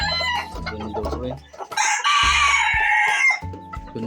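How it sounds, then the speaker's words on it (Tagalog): A yard full of chickens at a hobbyist's place, close clucking and a loud drawn-out rooster crow, with more birds calling around it and someone speaking briefly. "Daming manok ni kahabi."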